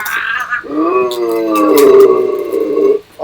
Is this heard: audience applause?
no